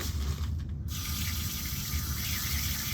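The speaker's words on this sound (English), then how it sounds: "I'm gonna turn on my water." Water runs steadily from a tap with a close, continuous rushing hiss, and no voices.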